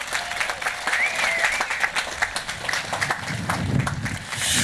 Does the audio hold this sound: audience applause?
yes